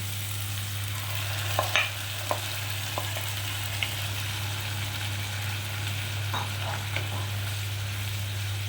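Mung dal hitting hot oil alongside softened tomatoes in a pan, giving a soft continuous frying hiss under a low steady hum, with a few faint clinks and stirs and no speech.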